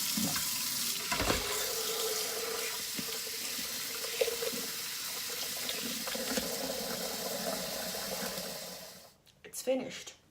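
Dishes are washed at a kitchen sink under steady running tap water for several seconds, then the flow stops and a few close clatters follow.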